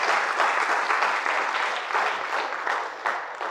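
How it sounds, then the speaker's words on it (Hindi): Enthusiastic applause from an audience fills the whole stretch, a dense, steady patter of many hands clapping with no talking. "पहले तो जोरदार तालियां"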